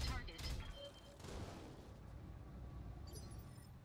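Autocannon fire from AC-2 weapons in the BattleTech game, a dense run of booming shots and crackling impacts that starts loud and settles into a steady rumbling wash, with speech mixed in.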